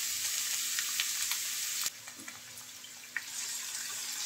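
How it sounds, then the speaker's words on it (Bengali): Chopped onions fry in two tablespoons of oil in a pan, a steady close sizzle with occasional stirring scrapes and pops. "পেঁয়াজ হালকা ভেজে নেব"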